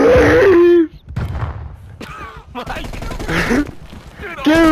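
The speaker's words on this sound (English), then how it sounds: "That's stun grenade!" A stun grenade detonates in a video game, a loud burst at the start followed by ringing, muffled tones as excited voices shout over the game audio.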